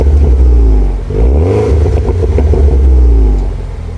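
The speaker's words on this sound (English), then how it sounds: "We also have an upgraded exhaust system on this car. Let's have a listen to what it sounds like." A 2011 MINI R56 John Cooper Works with an upgraded exhaust revs hard, a loud close rumbling idle rising into two throttle blips with deep exhaust burble, then settling back down.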